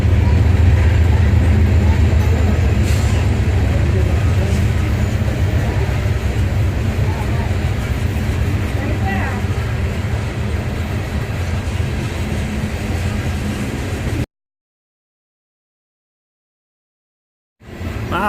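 A very long train rolls past a trail on the Appalachian Trail, a loud, continuous rumble with faint rattling that stays steady for about fourteen seconds before stopping abruptly.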